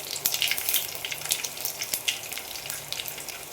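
Cumin, mustard seeds and garlic crackle in hot oil for a tempering, giving a steady close sizzle with scattered sharp pops and no voices.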